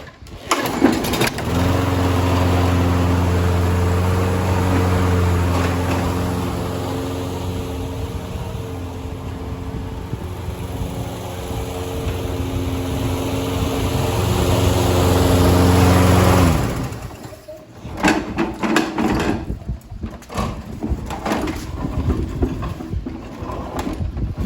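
A Toro Personal Pace self-propelled lawn mower engine starts and runs at a steady drone, close by, with a low humming tone that cuts off abruptly, followed by clattering handling noises.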